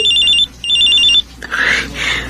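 A cellphone rings with an incoming call in a radio drama, two loud electronic trilling bursts followed by softer sweeping tones, close and alone with no talk.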